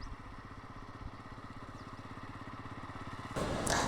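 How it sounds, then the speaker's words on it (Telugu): A motorcycle is ridden slowly along a village road during Ugadi festivities, its engine putting out a low, steady rhythmic chug, quiet and close, before a louder burst of noise at the end. "ఇక్కడ బైక్ డ్రైవ్ చేస్తుంది నేనే"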